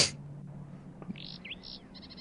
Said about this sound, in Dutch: Waarom hoor ik vogels?